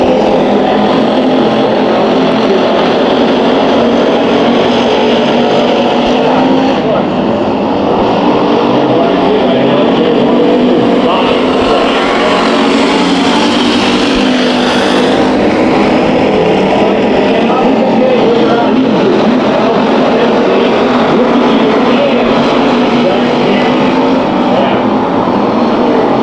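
Race cars roaring around the oval at Bakersfield Speedway during a heat race, a loud continuous engine drone from several cars running close together, with an announcer talking over it.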